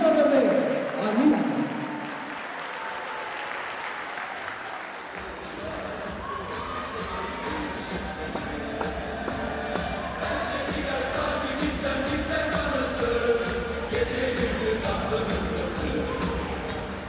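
At a women's EuroCup basketball game in an arena, the crowd applauds and cheers in a broad, continuous roar that follows an announcer's voice over the public address.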